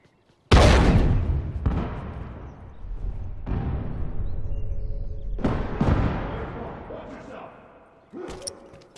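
A thrown explosive detonates in The Last of Us, followed by a series of booming blasts. Several loud hits, each with a long decaying tail, come one after another, with a short, sharper burst at the end.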